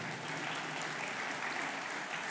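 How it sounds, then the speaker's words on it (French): An audience at the official opening of a history festival applauds a speaker, with even, sustained clapping that sounds fairly distant and stays steady for a couple of seconds. "Oui, oui, allez-y, applaudissez-la."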